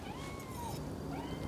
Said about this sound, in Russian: Кто-то мявкает.